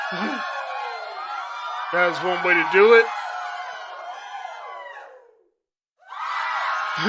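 A crowd cheers, whoops and screams during an online stream's celebration, with someone talking over it. The cheering cuts out into a brief silence and then swells back in.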